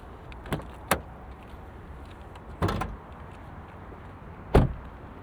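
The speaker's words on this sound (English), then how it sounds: "We'll pop the hood and take a look at this 2-liter turbo." The hood of a 2024 Hyundai Elantra N with a 2-liter turbo is released and opened, giving a few separate clicks and clunks, including a latch pop and a firm thud near the end, all close by and alone.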